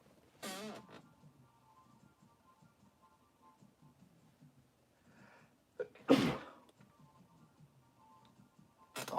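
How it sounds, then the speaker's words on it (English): Three sharp sneezes burst out at intervals, loud and close, from a person with allergies; soft indistinct sounds fill the quiet gaps between them. "I'm sneezing into my shoulder all the way"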